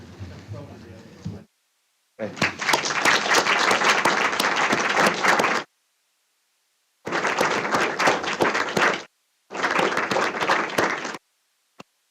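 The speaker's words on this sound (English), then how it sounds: "I would like to ask the council and councillors to stand for a round of applause to David as he finishes his year" Councillors at a Derbyshire Dales full council meeting give a standing round of applause, with bursts of steady clapping separated by abrupt silent gaps after a brief spoken passage.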